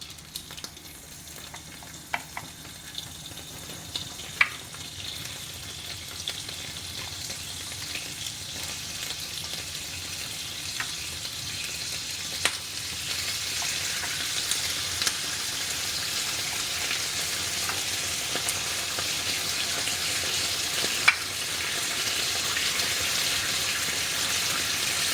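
Pork barbecue skewers frying in a little oil in a pan, a steady broadband sizzle that builds louder over the span, with a few sharp crackles and pops and no talking.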